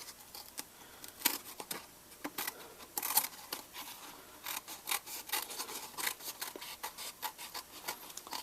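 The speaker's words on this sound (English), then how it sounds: "I'm actually going to go ahead and cut right up next to my cylinder and trim that all the way around" Scissors snip paper close around a paper cylinder in a paper sculpture, a quiet run of irregular crisp cuts and rustles, near and alone.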